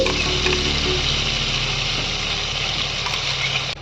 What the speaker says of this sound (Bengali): পেঁয়াজ বাটাটাকে ভালো করে ভাজা ভাজা করে নেবো